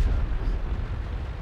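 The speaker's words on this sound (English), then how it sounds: "Oh, that is an awesome explosion there." A train blows up in the World of Tanks video game, a dense, rumbling explosion roar that fills the whole moment with low booming and no speech.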